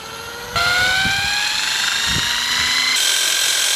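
A heavy wheel on a shaft is spun up by a power tool to a few thousand revolutions per minute, giving a loud steady whine whose pitch climbs continuously for several seconds, with a brief step in tone near the end.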